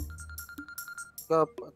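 A short electronic phone ringtone pulses in a steady repeating pattern of chirps, followed by a brief burst of voice.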